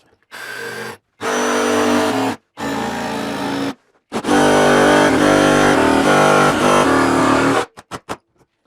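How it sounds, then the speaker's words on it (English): A jigsaw cutting in short loud bursts: three brief runs separated by silences, then one longer continuous buzzing cut, ending in a few quick stutters. Nobody talks. "I have to be very careful when using a jigsaw."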